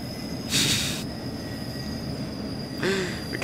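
A Class 67 diesel locomotive hauling BR Mark 1 blue coaches in Train Simulator 2020, with a steady rolling rumble, a constant high tone and two short bursts of wheel squeal as it rounds a curve.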